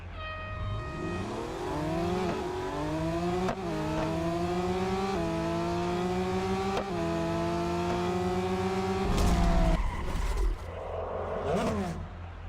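Race cars in a Real Racing 3 drag race rev hard and climb through several upshifts, engine pitch rising in steps before a gear-change burst and a final throttle lift with faint scraping near the end.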